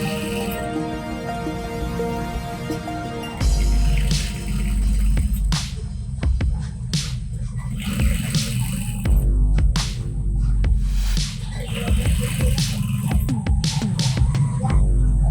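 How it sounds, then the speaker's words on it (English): A sewing machine overstitches the band of a shirt collar, a loud, steady hum of close, rapid needle strokes that starts and stops in short runs. "She's now sewing over that side."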